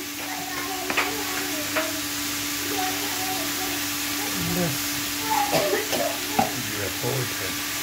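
Green chillies sizzle as they fry in a pan, a steady hiss broken by stirring clatters and spoon knocks, close by, with brief voice-like sounds now and then.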